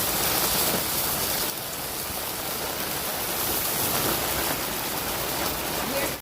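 Steady rain falls outdoors around a Blackstone griddle while breakfast biscuits are cooked, a dense continuous hiss of drops on surfaces, close and fairly loud throughout with little variation.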